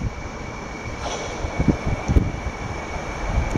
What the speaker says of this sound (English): I think my train's here.